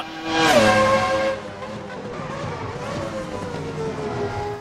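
Formula 1 V10 engine of a 1997 car in Assetto Corsa on the old Nürburgring, screaming loudly at first and then easing into a lower sustained drone that gradually sweeps upward, with no talk.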